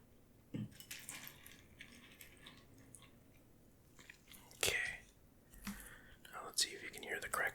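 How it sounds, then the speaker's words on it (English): Crunchy marshmallow chewed close to the mic in several crisp bursts, mixed with faint clinks of dishes and soft whispered speech between bites. "That's pretty crunchy for a marshmallow."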